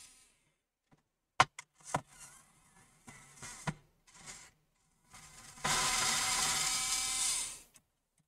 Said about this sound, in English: Now we need to come here and remove all these screws.